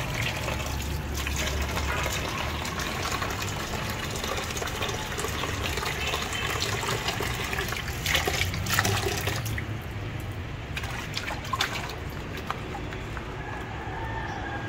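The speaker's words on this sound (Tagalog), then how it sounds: "Labahan mo ng husto yan" Running water pours steadily while fish, tuna, is rinsed in a kitchen, a continuous splashing rush with occasional clatter and handling noises near the end.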